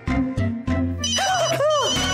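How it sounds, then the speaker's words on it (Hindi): A phone rings in a quiet room at night, a warbling electronic ringtone with rising and falling tones sounding over low background hum, clear and close. "घंटी फोन की है।"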